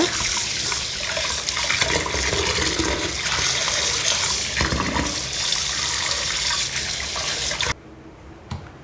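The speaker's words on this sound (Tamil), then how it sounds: "நல்லா வாஷ் பண்ணி எடுத்துக்கலாம் முதல்ல" Tap water runs steadily and loudly over murrel fish being washed in a kitchen sink, a continuous splashing rush that cuts off abruptly near the end.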